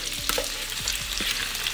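Olive oil crackling in a wok over high heat with shrimp going in, a dense continuous sizzle punctuated by sharp pops and spatters throughout; no voices.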